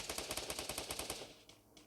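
Rapid automatic gunfire during a Free Fire firefight, a steady burst of evenly spaced shots for about a second before cutting off, followed by a couple of fainter distant reports.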